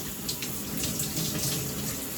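Tap water runs steadily into a basin while a hand is wetted to work up shampoo, a close, continuous splashing hiss with no voices.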